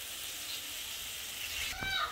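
Chicken filling for paratha cooks in a pan with very little oil over a medium flame, giving off a faint, even hiss of sizzling with a brief higher squeak near the end.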